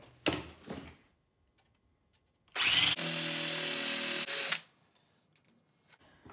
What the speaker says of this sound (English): I'm going to grind this to 800, and then we're going to hone it.